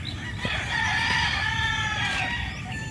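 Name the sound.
gamefowl rooster crowing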